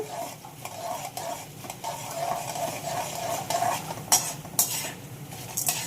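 Cumin, curry leaves and green chillies frying in a pan for rice rava raw mango pulihora, a low steady sizzle with repeated ladle clinks and scrapes against the pan, sharper metallic strikes near the end, close up.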